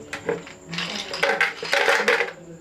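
Ice cubes clink and clatter into a container of grapes and jaggery, a run of several bright, close knocks and rattles with a short pause midway.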